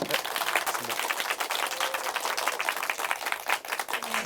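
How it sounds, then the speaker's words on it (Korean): Listeners applaud at the end of a talk by a music critic at a small culture club gathering. Crisp, individual claps overlap into a lively, fairly close patter that continues unbroken for several seconds. "저 오늘 좋은 강연 해주신 김영대 평론가님께 박수 한번 부탁드립니다."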